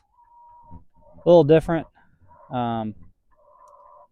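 Laying hens at an egg mobile cluck in short, soft, close bursts around a man's brief speech, with a faint background tone running underneath.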